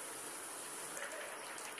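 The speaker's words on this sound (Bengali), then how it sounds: "এবার পরিমাণ মতন জল দিয়ে দিচ্ছি" Water poured into a pan of jute leaf curry with shrimp and chillies gives a steady, soft hiss and gentle splashing that holds level throughout.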